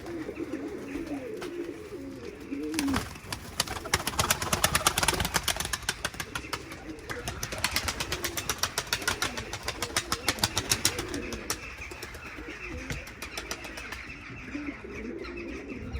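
Pigeons and other birds calling around a pigeon loft, with soft cooing, chirps and bursts of rapid wing flapping, fairly close and continuous over a faint outdoor background, no talking.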